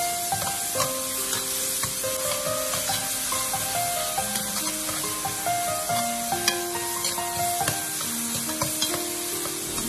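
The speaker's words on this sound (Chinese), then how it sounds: "将肉末炒熟之后，再跟甜豆一起翻炒，把甜豆和肉末翻炒均匀。" Minced pork and sweet peas stir-fried together in a hot wok, with steady sizzling and repeated scraping, clattering strokes of the spatula, close and fairly quiet.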